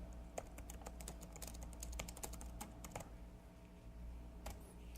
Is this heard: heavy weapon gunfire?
no